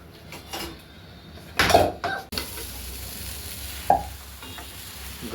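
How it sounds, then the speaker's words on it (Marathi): Food fries in a pan on a home stove while uttapam is being made. A low sizzle runs throughout, with a few louder bursts of stirring and clattering utensils, and no speech. "आता मी फ्राय करते."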